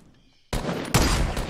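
Gunfire in Fortnite, two sharp loud shots about half a second apart breaking in after a quiet stretch, with no talk over them.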